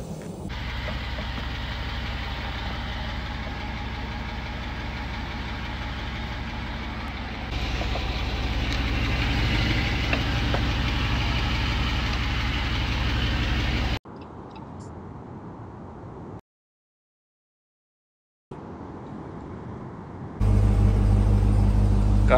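Ford Bronco Raptor engine idling nearby, a steady low rumble with light ticking that holds through several cut segments, dropping out briefly to silence before resuming louder at the end.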